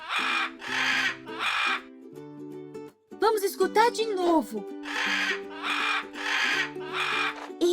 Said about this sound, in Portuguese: Este é o som da arara.